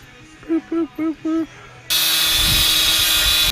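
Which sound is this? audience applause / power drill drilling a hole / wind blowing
power drill drilling a hole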